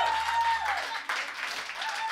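A crowd applauds steadily at an acoustic night at Gannow Wharf, dense clapping filling the room at moderate loudness, with a brief dip midway before it picks up again.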